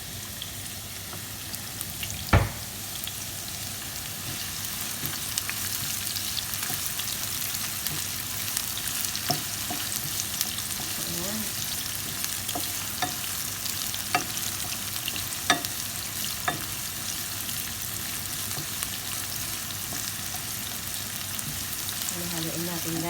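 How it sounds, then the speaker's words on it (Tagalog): Onions fry and get stirred in a pan for cheesy chicken fajitas. The sizzle is steady and close, with a few sharp scrapes and taps scattered through it. "Unang ilagay yung sibuyas. Siyempre, haluin. Hanggang mamula-mula ng konti."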